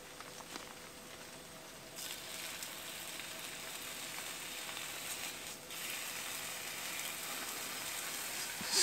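Thick bacon sizzles and spits in a small pan over a camp stove, a steady, fairly loud crackling hiss that swells slightly toward the end.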